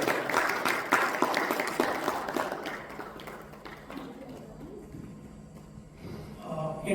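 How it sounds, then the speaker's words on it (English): Audience applause at an education awards ceremony in Dubai, a dense clapping wash that is strongest at first and gradually thins, with a voice rising near the end. "Can we have a big round of applause?"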